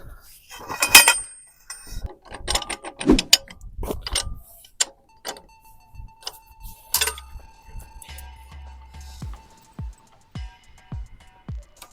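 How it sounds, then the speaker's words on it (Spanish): A large socket works a tight nut loose during a 1995 Volkswagen restoration, heard as close metallic clicks, ratcheting ticks and clanks in irregular bursts, then sparser taps, with no voice. "Y ahora vamos a quitar esta tuerca con un dado grande, que sería una 716. Y haciendo palanca, porque esto está muy apretado,"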